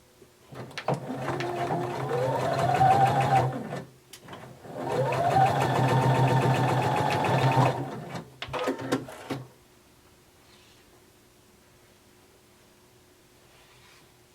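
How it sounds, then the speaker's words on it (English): A sewing machine runs across shoulder and side seams of a romper in two long, steady bursts, then a few short stitches, close and clear before falling quiet. "You're going to sew across each shoulder and each side."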